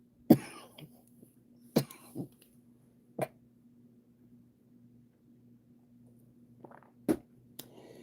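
A woman coughs several times, short isolated coughs and throat clears spaced out with quiet gaps in a still room.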